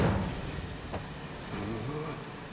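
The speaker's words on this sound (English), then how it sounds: "Need to slow the train down." Train rumbling along rails in Final Fantasy VII Remake, a steady low mechanical roar with faint squeals and clatter, continuous and close, with no talking.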